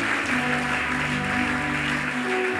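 A church congregation applauding in steady, sustained clapping that fills the whole stretch, with sustained musical tones running underneath.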